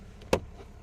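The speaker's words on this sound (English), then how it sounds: "power step come out when I opened up that door" A single sharp mechanical clunk as the power running board of a 2022 Ram 2500 Laramie Night Edition crew cab pickup deploys when the door opens, brief and close against faint background noise.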